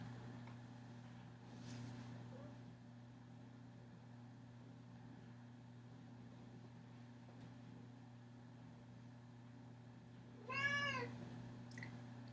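A cat meows once, loud and close, near the end, over a steady low indoor hum that runs throughout.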